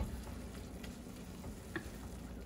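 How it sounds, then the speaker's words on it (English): Bison sloppy joe meat sauce simmers in a pan with a soft, steady sizzle and faint bubbling, low and even throughout with no voices. "I'm just gonna let this simmer for a while"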